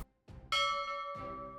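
A bright notification bell chimes twice, a first sustained ring followed by a second strike that lingers as the tone fades, with no other sound around it.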